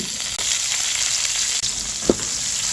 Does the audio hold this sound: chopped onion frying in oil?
yes